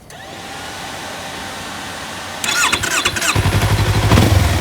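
A 2024 Yamaha MT-03 motorcycle engine idles steadily, then a starter whirs as it is started with the key and the engine catches, revving up louder and running rough and close by.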